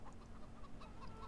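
Chickens cluck on a virtual farm in Farming Simulator 22, a steady, soft flurry of overlapping clucks filling the whole stretch with no talk.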